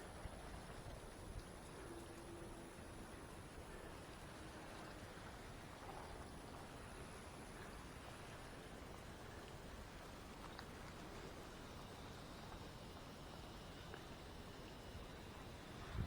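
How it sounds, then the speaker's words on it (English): A garden sprinkler sprays water in a steady, soft hiss that patters continuously at a distance, an even wash of droplets with no pauses from start to finish. "I've never really fooled with a sprinkler without getting wet"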